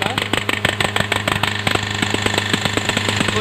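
A Hyundai i20 engine runs with a knocking fault, giving a rapid, regular metallic ticking over a loud steady engine drone, close up, the knocks evenly spaced and continuous throughout.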